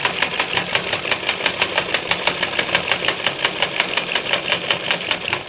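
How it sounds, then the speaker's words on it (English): A sewing machine stitches a half-inch seam around a pleated chef cap band, running steadily with a fast, even mechanical rhythm of needle clatter, close and fairly loud throughout with no talking. "So now I'm sewing."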